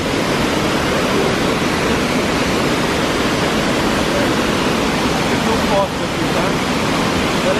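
Cachoeira Charmosa, a powerful waterfall at Ceita Corê in Bonito, Brazil, roars steadily and loudly throughout, a dense, continuous rush of crashing water with no pauses.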